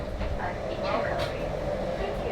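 Interior of a moving passenger train in Indonesia: a continuous low rumble and rolling hum fill the carriage, with soft background voices murmuring.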